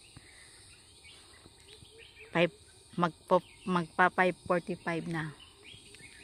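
Birds call near Aberdeen Reservoir at high tide, a quick series of bright chirps in the middle of the clip, close and clear over quiet surroundings, with someone speaking briefly.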